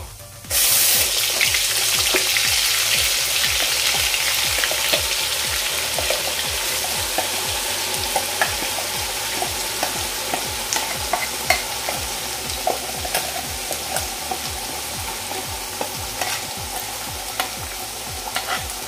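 A ground masala paste for a rustic crab curry fries in hot oil with cumin, a loud, continuous close crackling sizzle with regular stirring strokes beneath, steady for the whole stretch.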